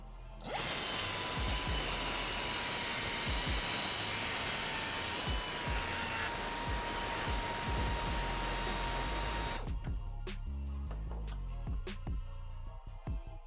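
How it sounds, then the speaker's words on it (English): An angle grinder runs steadily for about ten seconds, elongating a bolt hole in a steel QA1 coil-over bracket during a 1962-1987 Chevy C10 install, a loud continuous whine that cuts off into a few light knocks. "Take a grinder and grind it out."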